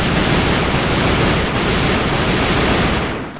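Rapid automatic gunfire from a Para gun in the shooter game AvA, a loud dense continuous burst of shots lasting about three seconds before cutting off, with no talking.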